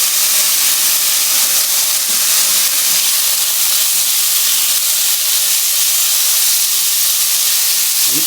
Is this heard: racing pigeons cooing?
no